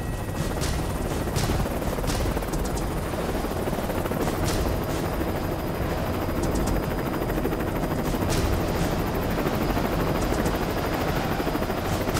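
A helicopter in a film roars loud and constant throughout, a dense rotor and engine drone with sharp bursts like gunfire poking through.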